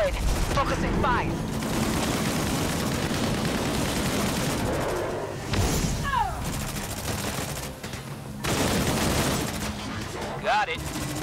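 Heavy gunfire in the sci-fi shooter Disintegration, a dense near-continuous fusillade of rapid shots with bursts of impacts and explosions, loud throughout, a voice speaking over parts of it.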